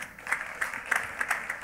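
Congregation at a church healing service clapping in bursts, a short stretch of uneven, rhythmic claps from a crowd heard at moderate distance.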